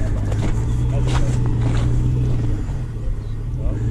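A four-wheel-drive vehicle whose four-wheel drive is not engaging grinds along in reverse, the engine holding a loud, steady, labouring drone while people talk over it nearby.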